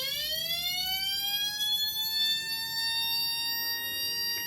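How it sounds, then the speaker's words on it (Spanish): Electronic police siren circuit wailing steadily, its tone climbing as a push button raises the frequency; loud, continuous electronic whine with no voices. "podemos escuchar el sonido de la sirena de policía"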